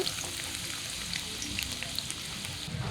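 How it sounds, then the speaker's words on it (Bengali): Chopped onion fries in hot mustard oil for a carp fish curry, a steady, dense sizzle and crackle like light rain, continuous and fairly close. "গরম তেলে আগে পেঁয়াজ কুচি দেবো"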